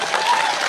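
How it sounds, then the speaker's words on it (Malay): Brief burst of crowd applause at a wedding gathering, dense and loud clapping filling the whole short moment. "Tepuk tangan."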